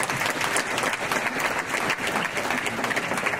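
Audience at a French regional election political rally in Marseille claps steadily and densely for several seconds, a loud sustained wash of many hands without pause.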